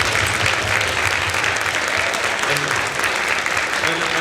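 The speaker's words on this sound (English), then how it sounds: "so I just want to give you a round of applause on that." Theatre audience at a women's town hall in Iowa City's Englert Theatre breaks into full applause, a steady, dense wash of clapping lasting the whole moment with faint low voices underneath.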